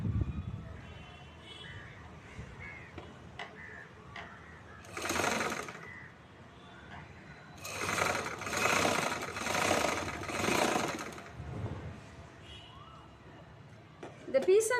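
A sewing machine stitches a chudithar in short bursts of rapid needle rattle, close and fairly loud, separated by pauses with faint background noise and occasional talking.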